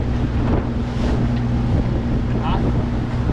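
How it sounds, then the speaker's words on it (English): Wind rushing across the microphone aboard a small sailboat in a gap wind kicking up chop, a loud steady roar with low rumble and water noise throughout. "There comes the winds."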